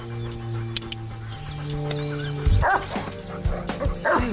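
A dog barks in a few sharp, loud bursts against a background of steady tonal sound.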